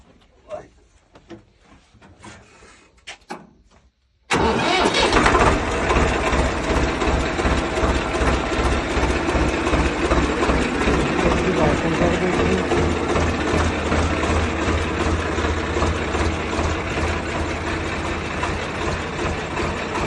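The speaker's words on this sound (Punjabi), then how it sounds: "ਟਰੈਕਟਰ ਨੂੰ ਚਲਾ ਕੇ ਸਟਾਰਟ ਕਰਕੇ ਆਵਾਜ਼ ਸੁਣਾ ਦਿੰਨੇ ਆ ਜੀ" A 2013 Swaraj 855 tractor in good condition sits quiet at first, then its diesel engine starts and settles into a loud, steady, close idle with a rhythmic low chug that runs to the end.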